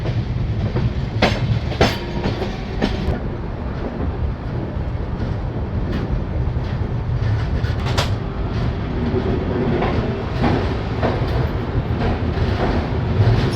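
The Chambal Express rolls slowly into Gaya station at night, heard from aboard as a continuous rumble with rhythmic wheel clicks and rattling carriage noise.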